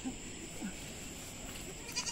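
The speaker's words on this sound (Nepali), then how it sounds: "बाख्रा चाहिँ यही हो" A goat bleats faintly on a small farm at Lingdong in Dzongu, giving a couple of brief, soft calls over quiet background hiss.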